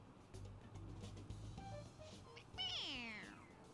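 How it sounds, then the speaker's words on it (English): A toy cat squeezed on the head in Persona 5 Royal lets out a single rising-and-falling electronic meow near the end, loud and clear over a low game background hum with a few soft tones before it. "It meows when you press on its head."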